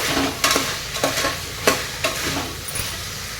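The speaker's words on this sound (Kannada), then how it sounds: "ನೋಡಿ, ಇದು ಚೆನ್ನಾಗಿ ಫ್ರೈ ಆಗಲಿ." Ingredients for a Gujarati-style rice pulao fry loudly in a pan with salt added, a dense sizzle broken by several sharp scraping stirs of a spoon, close up and without talk.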